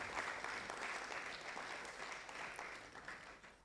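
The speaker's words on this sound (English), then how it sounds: "Please give her a round of applause." An audience applauds steadily after a woman, a lawyer and leader, is introduced at a thought leadership event's closing remarks, the sustained clapping filling the room before slowly tapering off.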